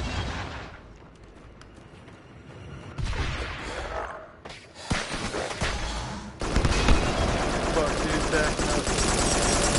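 In the co-op shooter game Farpoint, gunfire rattles in bursts that build from scattered shots to a loud, sustained barrage, while players talk over it.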